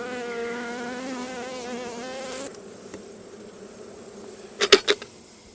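Bees buzz steadily around a beehive being readied for winter, a dense droning hum that cuts off partway, leaving quieter ambience and a couple of brief close bursts near the end.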